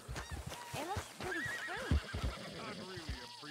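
Horse whinnying and snorting in the video game Red Dead Redemption 2, close and loud, with hooves clip-clopping and voices talking alongside.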